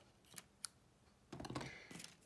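A couple of sharp snips, then a longer run of scissors cutting through paper, quiet and close.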